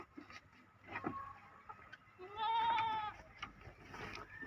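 Goats at a village goat farm bleat in a drawn-out wavering call midway through, heard under outdoor background noise and scattered knocks.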